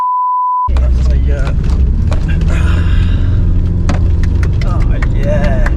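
A Mitsubishi L200 pickup truck's engine labours off-road as a loud, continuous rumble with scattered clunks and knocks, after a brief steady beep tone at the start, with a voice talking over it.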